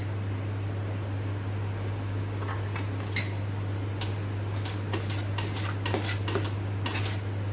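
A spoon stirring fruit food colouring into a sweet homemade faradi sing paak mixture, making light scraping and clinking against the pan that grows busier toward the end over a steady low background hum, with no talking.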